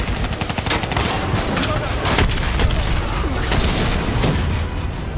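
Missile fire and impact against an armored personnel carrier in the Call of Duty Black Ops III campaign, heard as loud, dense battle noise with booms and rapid gunfire throughout, voices faintly present in the mix.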